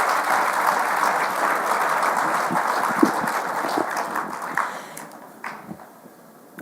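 An auditorium audience applauds midwives on Midwives' Day, dense sustained clapping that thins and fades out over the final seconds.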